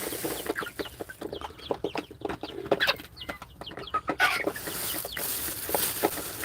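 Two-month-old broiler chickens on a farm cluck and chatter in a dense, overlapping stream of short calls, near and moderately loud, with no talk.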